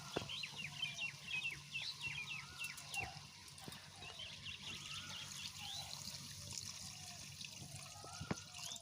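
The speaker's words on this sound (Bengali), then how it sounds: "জল দিয়ে দেবো" Water pours and trickles steadily into a pot of cooking meat (liver, neck and chicken feet), a continuous close liquid rush with faint background chirps.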